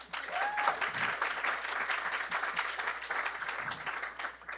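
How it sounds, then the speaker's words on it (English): A conference audience gives a round of applause for a panelist, dense steady clapping from a crowd that swells early and holds, with a brief whistle near the start. "Again, one more round of applause."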